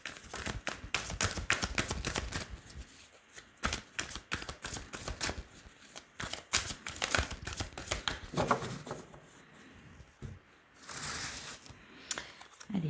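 Tarot cards being shuffled and drawn, with rapid crisp riffling and flicking close by, broken by a few brief pauses and softer handling sounds.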